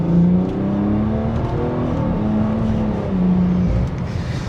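A BMW F30 sedan's engine pulls hard under acceleration in Sport Plus mode, a loud, steady drone with rising harmonic tones that climb through the gears, heard close from inside the cabin with no talking.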